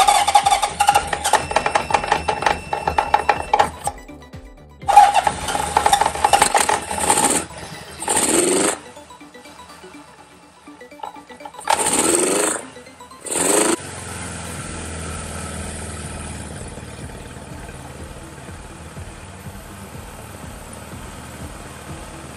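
A 1977 Honda CB750A Hondamatic motorcycle engine, running after carburetor float trouble, cranks and catches with a few stuttering bursts and gaps, then settles into a steady, even idle that holds for several seconds, close and moderately loud.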